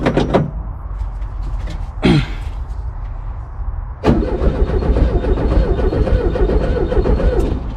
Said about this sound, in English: let's see if we can get the starter to crank